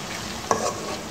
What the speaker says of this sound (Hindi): प्याज हमारा ब्राउन हो रहा है